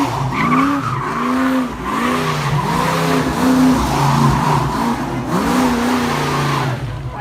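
A Chevelle spins donuts, its tires squealing continuously in loud, wavering, looping shrieks over a steady engine roar, heard up close.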